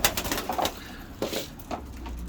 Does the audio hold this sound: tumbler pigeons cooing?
yes